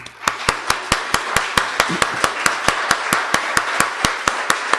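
Church congregation giving a round of applause during a Father's Day service, heard as sharp, evenly spaced claps in a steady rhythm, loud and close over a low hum.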